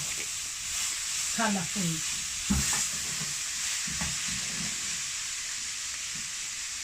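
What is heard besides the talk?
purple cabbage being stirred and frying with vegetables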